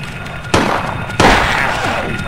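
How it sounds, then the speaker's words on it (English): Gunfire in the Silent Hill horror game on PC, two sharp loud shots a little over half a second apart, each followed by a lingering broadband rumble. "Start shooting!"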